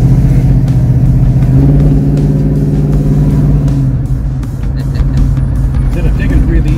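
A deep, loud engine of a 1973 Dodge Challenger 340 with a brand-new motor rumbling steadily up close, its low throaty idle throbbing with slight shifts in pitch, while people talk over it.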